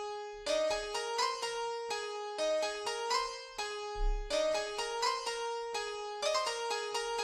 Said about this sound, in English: Then we have a piano layer over here, which just helps the melody come through a bit more.